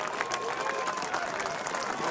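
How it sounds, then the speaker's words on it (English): Steady, dense applause from a crowd at a cyclo-cross World Cup race in Koksijde, Belgium, a standing ovation for rider Niels Albert, continuous and fairly loud throughout. "The crowd giving Niels Albert a standing ovation"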